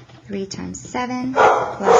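A pet dog gives a few short yips and barks, fairly close, while a person keeps talking over it in a steady voice.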